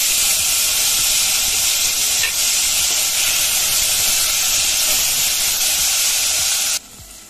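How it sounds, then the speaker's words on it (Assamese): Potatoes, tomato and peas frying in a pan give a loud, steady, close hiss and sizzle that carries on unbroken and then suddenly drops away near the end. "এয়া গোটেইখিনি আলু ভাজি ল'লোঁ লোৱাৰ পিছত ইয়াতে দিলোঁ বিলাহী আৰু মটৰ"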